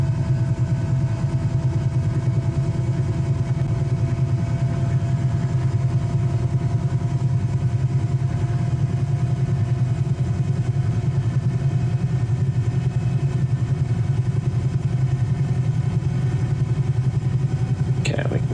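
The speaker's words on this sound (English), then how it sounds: "we'll let the rotor RPM come up until it stabilizes" A helicopter's engine and rotor spool up in Microsoft Flight Simulator 2020, a steady low droning hum with a faint higher whine that holds constant throughout, close and continuous with no talk.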